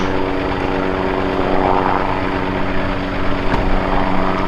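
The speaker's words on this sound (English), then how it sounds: "A helicopter is also flying over." A helicopter flies overhead near an equipment yard, its loud, steady rotor and engine drone filling the whole stretch with no voices.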